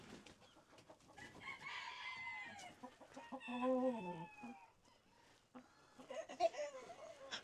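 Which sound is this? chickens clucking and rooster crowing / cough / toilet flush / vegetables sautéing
chickens clucking and rooster crowing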